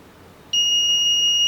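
A homemade 8085 microprocessor-based alarm clock suddenly starts sounding, a loud, steady high-pitched electronic beep that holds continuously, with no voices.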